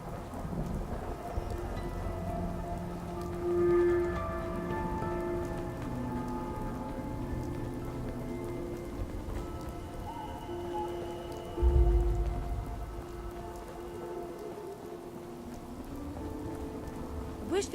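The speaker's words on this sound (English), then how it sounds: "Hope this rain lets up soon." Steady rain falls across a Fallout 4 game scene, a continuous hiss with a brief low thunder rumble near the middle, while tonal in-game music hums underneath.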